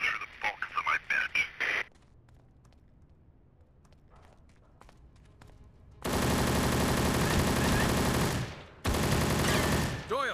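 Gunfire in the PC game Secret Service: Ultimate Sacrifice during a mission shootout, heard as two long, dense, loud bursts of sustained automatic fire after a quieter stretch with brief sharp sounds.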